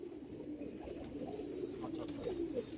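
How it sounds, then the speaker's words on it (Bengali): A rare, unusual-looking male pigeon in a loft in Mirpur, Dhaka, cooing in low, soft repeated murmurs over a steady background hum, fairly close and moderately quiet, with no talk. "খুবই আনকমন একটা কবুতর।"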